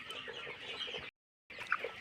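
A barn of about 1,200 colour bird chickens, 42 days old, clucks steadily up close on a poultry farm. The sound cuts out briefly midway, then resumes with a few sharper individual clucks.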